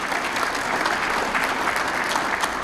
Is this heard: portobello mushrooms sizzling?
no